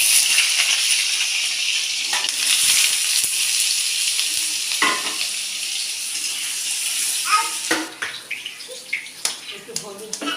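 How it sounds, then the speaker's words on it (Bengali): Potatoes frying in hot oil in a home kitchen give a steady, close, loud sizzling hiss. Toward the end, scattered clinks and scrapes of a utensil cut in. "তাহলে আমি আলুটা ভেজে নিই"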